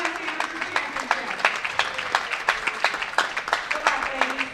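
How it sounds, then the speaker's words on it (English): Spectators applaud at the U.S. Amateur bowling championship final, scattered rhythmic clapping from a modest crowd in a bowling center, with voices talking underneath. "give a great big round of applause as we begin our final match of the U.S. Amateur Championship"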